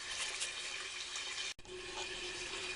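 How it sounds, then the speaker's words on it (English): Water pours steadily from a hose into an aquaponics grow bed in a greenhouse, a continuous close rushing flow with one brief dropout partway through. "As the water comes into the grow beds, it's coming through this sponge type filter here."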